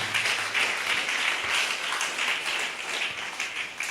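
A church congregation claps together during a sermon, a steady, dense patter of many hands held at moderate distance for several seconds, with no voices rising above it.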